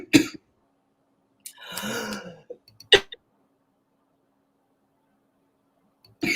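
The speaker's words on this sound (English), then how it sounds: "I'm sorry, I need to cough." A few sharp coughs and throat-clearing sounds, close to the microphone, separated by stretches of silence.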